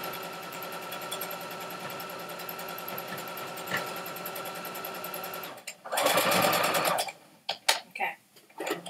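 A sewing machine stitches fabric for a crafted Christmas gnome, running in a steady, loud mechanical whir, then stopping and giving a few short, choppy bursts after a faint voice.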